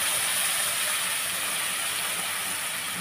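Tomato sauce and soy sauce sizzle with noodles in a hot pan, a steady, loud, even hiss that holds throughout.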